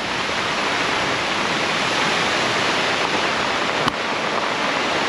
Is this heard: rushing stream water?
yes